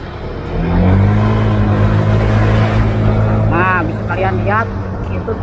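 An upgraded Honda Beat Deluxe scooter pulls hard while overtaking a car in busy road traffic, its engine droning loud and steady close by, with someone talking over the ride.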